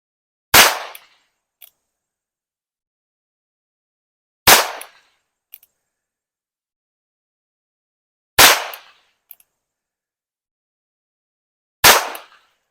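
A .22 Single Action Army revolver fires four single sharp, loud shots at a watermelon, spaced roughly four seconds apart. Each crack is followed by a short echo and a faint click, with silence between shots.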